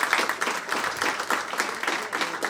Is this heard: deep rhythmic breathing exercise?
no